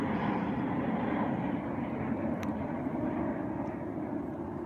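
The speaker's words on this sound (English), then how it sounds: "And another plane going. I hope you can still hear me when the plane are going." A plane flies overhead above a cemetery at night, a loud, steady engine drone that holds throughout and eases slightly toward the end, with a faint brief chirp partway through.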